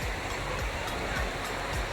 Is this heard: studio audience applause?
no